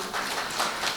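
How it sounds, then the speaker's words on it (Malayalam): A church audience claps together in a brief, dense burst of applause, steady and fairly close for about a second. "ഒരു കൈയടി കൊടുത്തേ."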